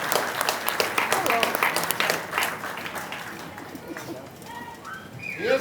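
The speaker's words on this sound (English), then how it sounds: "Give yourselves a big round of applause." An outdoor Juneteenth 2021 celebration crowd claps in a dense burst of applause that gradually thins and fades, with voices and bird calls emerging as it dies down.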